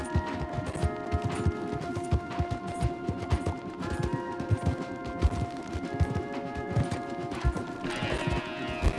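Horses galloping hard in Red Dead Redemption 2, a dense, steady drumming of hooves close up, with a whinny and other game sounds over it.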